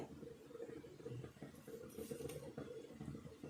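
Onion and wheat flour batter for onion vada gets stirred in a bowl, giving faint, irregular clinks and soft scraping of utensil against the bowl, quiet and close, with no talking.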